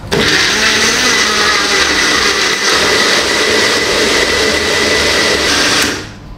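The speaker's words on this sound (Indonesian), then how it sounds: "kita blend aja sampai halus" Blender puréeing spice paste for chicken rendang, heard as a loud, close, continuous high-pitched motor whir lasting about six seconds before spinning down abruptly at the end.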